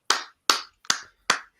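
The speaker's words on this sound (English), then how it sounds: "Give yourselves a round of applause, lads." Four sharp, evenly spaced hand claps from one person, close and distinct with silence between each.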